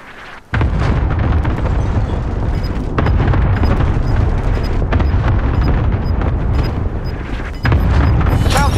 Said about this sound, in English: Good copy. Cluster strike away.